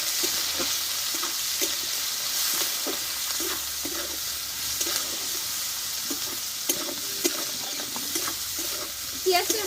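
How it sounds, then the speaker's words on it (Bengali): Onion frying in a pan with turmeric and salt makes a continuous hissing sizzle with repeated soft spatula scrapes, close and steady throughout. "আমি পেঁয়াজটা একটু ভালো করে ভেজে নেবো"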